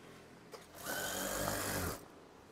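Sewing machine stitching a folded seam on fabric, a steady mid-loud mechanical whir running about a second after a brief click, alone with no talk.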